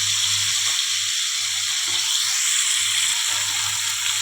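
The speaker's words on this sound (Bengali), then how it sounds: "তেলাপিয়া মাছগুলো ভেজে যাচ্ছে" Tilapia fish fry in oil in a pan, giving an even, steady sizzle at moderate volume with a faint low hum beneath it and no voices.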